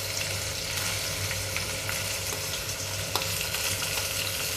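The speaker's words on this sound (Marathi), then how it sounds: "तेल घालणार आहे त्याच्यात। कांदा घालून घेते" Chopped onion sizzling in hot oil in a heated kadhai, a steady dense crackle of frying with occasional sharper pops, close and continuous throughout.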